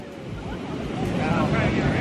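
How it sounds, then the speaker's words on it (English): Ocean surf at La Jolla beach in San Diego on a summer day: a continuous rushing wash of waves, loud and close, with heavy wind buffeting the microphone. "I do love waves."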